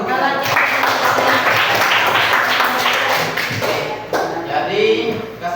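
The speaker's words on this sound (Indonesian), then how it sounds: "Kasih aplaus untuk kita." Applause for a team in a classroom, dense clapping and tapping from many students filling the space for several seconds, fading slightly near the end.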